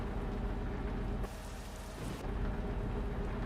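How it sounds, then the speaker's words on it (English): Steady heavy rain and a rolling rumble of thunder in a TruckersMP truck driving game at night, with a brief dip midway before the downpour swells back, loud and continuous, no talk. "we're going to turn off the rain, because I didn't think I will be able to drive with the lightning"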